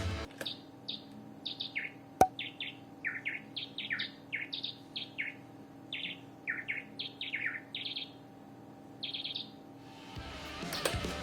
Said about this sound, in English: I actually programmed the bird singing because I wanted it to be in key